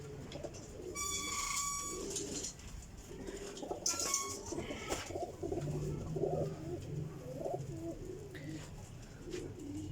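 Pigeons coo softly and repeatedly in a loft, low rolling calls under a background of other bird chirps and a few higher whistles, fairly quiet and close.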